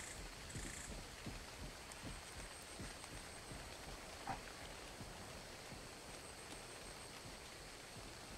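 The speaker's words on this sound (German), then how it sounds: "Kann das aufhören, bitte, der Regen?" Steady rain in the video game ARK: Survival of the Fittest, a soft continuous hiss of falling drops at even level with faint background tones, no talking.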